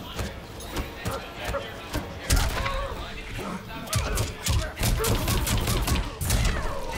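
Mortal Kombat 11 fighting-game combat with repeated Buckshot shotgun attacks, a dense series of sharp blasts and impacts beneath excited tournament commentary.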